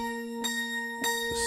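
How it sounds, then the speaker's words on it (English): Hard bells patch on a keyboard for a gospel performance track, playing sustained bell-like tones with three distinct strikes ringing on over each other, clear and alone. "I think I'm going to go with the hard bells."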